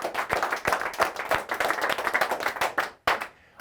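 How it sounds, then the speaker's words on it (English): Participants at a motivational sales training session clap energetically together, a dense, close round of hand claps that breaks off abruptly near the end with a few last claps trailing. "Give yourselves a huge round of applause"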